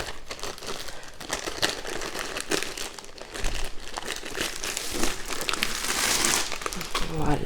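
A plastic sachet holding a Diamond Art Club canvas is opened by hand, giving close, continuous crinkling and crackling that grows busier toward the end, with a voice speaking over part of it.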